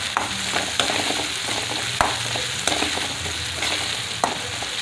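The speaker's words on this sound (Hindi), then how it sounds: "अब इसमें हम ये कसा हुआ अदरक डाल देंगे, कटी हुई हरी मिर्च, इनको भी थोड़ी देर प्याज के साथ भून लेंगे।" Grated ginger and chopped green chillies frying with onion in hot oil for paneer bhurji, a steady sizzle with periodic spoon stirs and scrapes against the pan, no talking.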